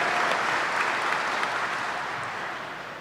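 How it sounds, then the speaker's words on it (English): An audience at a 2018 university commencement ceremony claps in a sustained burst that gradually fades over a few seconds, with no speech over it. "Let's give her a round of applause."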